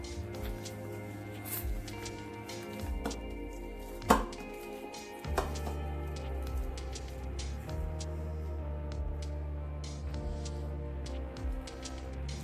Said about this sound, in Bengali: এরকম আমি সব মাপ করে কেটে নেব